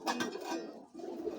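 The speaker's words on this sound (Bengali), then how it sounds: "সিলভার প্যাটার্নের কবুতর।" A silver-patterned pigeon coos close by, soft throaty pulses in a short burst, with a brief pause before another low coo.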